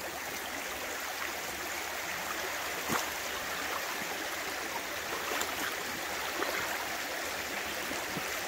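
A shallow stream in Colyton, Devon runs past wellington boots standing in the current, giving a steady close rushing and gurgling with a few louder splashes as the boots shift, and no talk.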